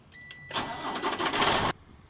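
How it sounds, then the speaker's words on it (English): A truck engine turning over and catching during a pre-trip inspection, a loud roaring crank lasting about a second before cutting off abruptly, heard alone without talk. "Engine on."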